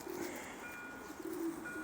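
A homing pigeon coos softly and nearby in two short, low phrases over faint background noise.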